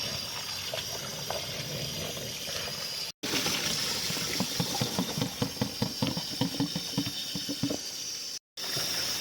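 Tap water running into a strainer of dirty potatoes being rinsed in a kitchen, a steady hiss of flowing water with a brief cut and a denser splashing patter in the middle.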